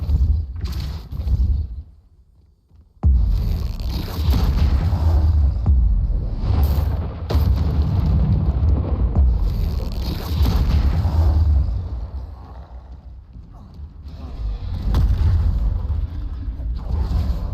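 Spell impacts in Hogwarts Legacy, deep booming blasts and rumbling bursts that repeat across the stretch with a short near-silent gap early on, loud and heavy, with a voice speaking at times.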